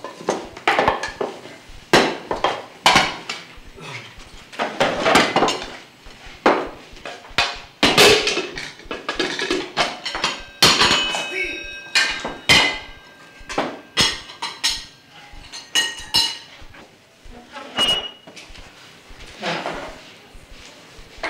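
Brass plates and dishware clatter and clink as food is served at a home dinner in a Bangla drama, with repeated knocks and scrapes over about twenty seconds while people talk now and then.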